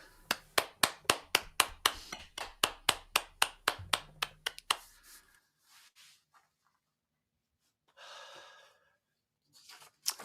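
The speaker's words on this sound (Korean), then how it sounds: "하나님 앞에 영광의 박수 올려드리겠습니다." At a church prayer meeting, about a dozen-plus rhythmic claps ring out close and evenly spaced, ending abruptly, followed by near silence with faint rustling.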